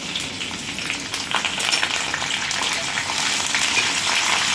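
Green chillies, ginger pieces and curry leaves frying in a pan for moong dal pongal, a steady close crackling sizzle that grows slightly louder and more intense midway, with no talking.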